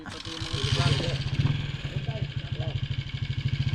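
A motorcycle engine idles with a steady low chugging pulse, close by, while people talk over it at first.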